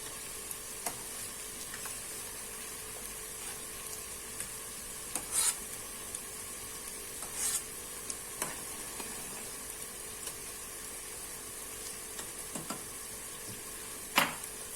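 Foam skimmed with a spoon from a pot of simmering dry beans for Turkish kuru fasulye with meat: a faint bubbling bed broken by scattered light clinks and scrapes against the pot.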